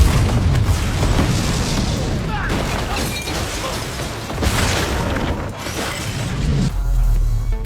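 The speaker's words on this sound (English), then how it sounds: "The powerful explosion blanketed the entire area in thick smoke." A loud, sustained roar of a blast with heavy low rumble, surging again midway and near the end, with voices mixed into the noise.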